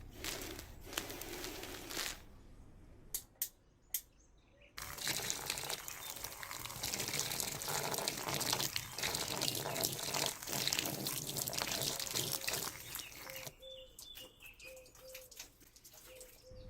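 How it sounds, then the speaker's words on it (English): Garden hose spray hitting a Creative MUVO Go portable waterproof Bluetooth speaker, a steady close hiss of water running for most of the stretch, with brief pauses near the start and a few faint tones toward the end. "we set the hose pipe loose on this Bluetooth speaker."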